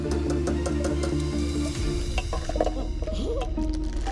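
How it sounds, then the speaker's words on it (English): Steady, loud sizzling and bubbling of churros deep frying in hot oil, with a low rumble underneath and occasional stirring sounds. "When deep frying the churros, you want to deep fry them for about 4 minutes."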